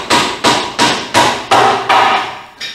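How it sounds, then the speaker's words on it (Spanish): A hammer strikes in a steady series of about seven sharp, loud blows while doors are installed in a house, each ringing briefly before the next, close by with no talking. "del martillo con el cual se está realizando ya la colocación de las puertas"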